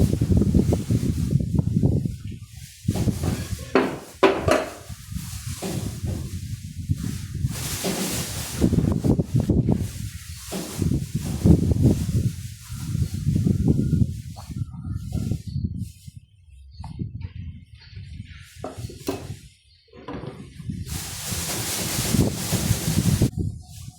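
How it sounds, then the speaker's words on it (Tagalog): Strong gusts of wind buffet the microphone in loud, irregular roaring bursts that rise and fall throughout. "lakas ng hangin"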